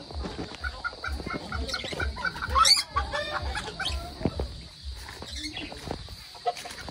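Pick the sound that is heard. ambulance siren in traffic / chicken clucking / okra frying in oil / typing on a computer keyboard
chicken clucking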